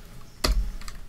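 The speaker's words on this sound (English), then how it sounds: "now you're typing in the word price" A brief burst of keystrokes on a computer keyboard while entering a formula into a Google Sheets cell, one sharp clack followed by a couple of lighter taps, close and alone.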